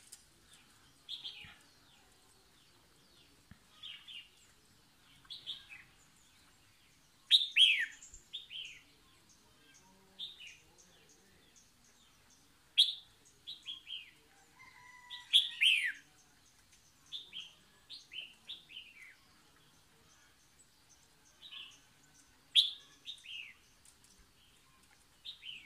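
A wild bird caught in a net trap sings repeated bright chirping phrases in short bursts with gaps between them, fairly close and clear over a quiet outdoor background.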